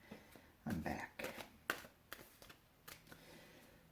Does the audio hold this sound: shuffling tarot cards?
yes